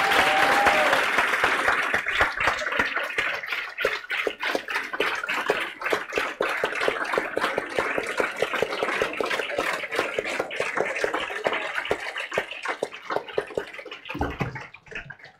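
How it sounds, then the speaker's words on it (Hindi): Students clap in a classroom during a CA accounts lecture, a long stretch of applause that starts as a dense wash and thins into a steady run of individual sharp claps before tapering off. "तालियों में मजा नहीं आ रहा भाई"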